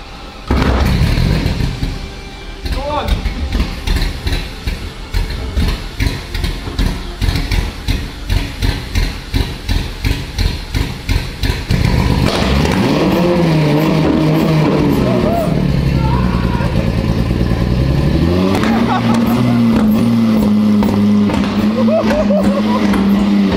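A Lamborghini Murcielago being rebuilt after abandonment cranks repeatedly in rapid rhythmic bursts, then catches and fires into a loud, rough running engine that revs up and down close by.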